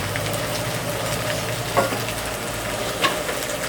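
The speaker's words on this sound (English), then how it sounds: "Now I'm going to put the onions in." Onions frying in a pan for Mongolian beef, with a steady moderate sizzle and a couple of brief utensil knocks, no voices.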